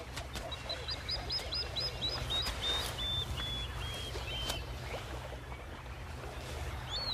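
Agitated plover calling at a monitor lizard near a crocodile nesting area: a run of sharp, repeated high chirps in the first few seconds, fading into a broad low rumble of water and wind.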